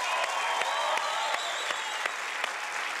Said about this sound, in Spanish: Vamos a regalarle un fuerte aplauso a Papá Dios